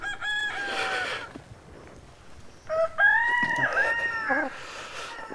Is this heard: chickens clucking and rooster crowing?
yes